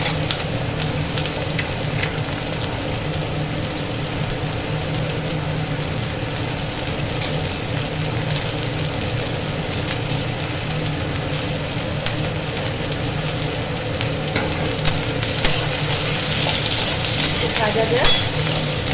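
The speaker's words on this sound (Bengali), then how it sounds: "ক্যাপসিকাম একটু ভাজা হয়ে গেল, দিয়ে দেবো" Capsicum and onion fry in a pan for chilli soya chunks, a continuous dense sizzle with occasional stirring scrapes, close and steady with no talking.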